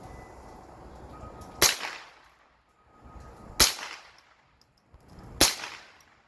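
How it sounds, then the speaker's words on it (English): A handgun being emptied before cleaning, firing three sharp, loud reports spaced about two seconds apart, each trailing into a short echo, with a quieter rustle between them. "I'm just going to empty my gun out so we can clean it"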